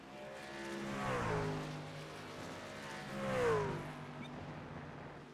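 Race trucks from a Lucas Oil truck series roar past on a loose track, two engine swells rising and falling as the trucks go by, fairly loud with no voices over them.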